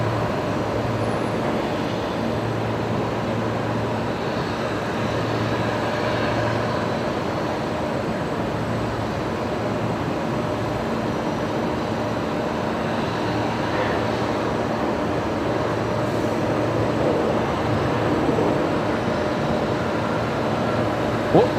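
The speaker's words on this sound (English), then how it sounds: "Qantas 196 coming in from Wellington next. The 737-800 here" A Qantas Boeing 737-800 arriving from Wellington lands on runway 19 Left at Brisbane Airport, heard as a steady, broad engine roar with a low hum, sustained from start to finish with faint voices nearby.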